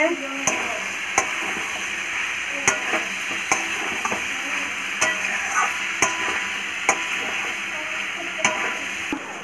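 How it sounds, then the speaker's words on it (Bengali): Cauliflower and potato curry sizzles steadily in a pan while a spoon scrapes and stirs it in regular clicks and taps, close and continuous with no voices. "এই দেখুন কি সুন্দর রান্না হচ্ছে, ফুলকপি আলুর তরকারি।"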